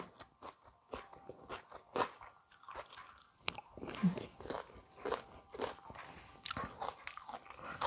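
Close, crunchy bites and chewing of steamed three-layer pork belly with fresh vegetables, a steady run of wet crunches and mouth sounds with no talk.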